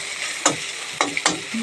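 Egg being fried together with potato in a pan, a soft continuous sizzle broken by three or four sharp scraping stirs of a spatula, close and fairly loud, with no talking.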